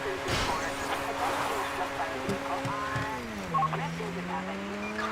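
A car in the video game GTA V driving along a road, its engine tone droning steadily and dropping in pitch partway through, with tire noise and a voice talking over it.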